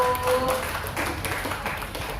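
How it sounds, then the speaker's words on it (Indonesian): Audience of Bapak Ibu clapping at a therapy seminar in Batam, a dense steady patter of hands filling the room at moderate level, with faint tones and murmur underneath. "Udah, tepuk tangan dulu dong Bapak Ibu"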